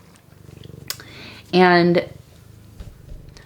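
A domestic cat purrs close by in a steady rhythmic rumble, with a loud tonal vocal burst briefly cutting across the middle.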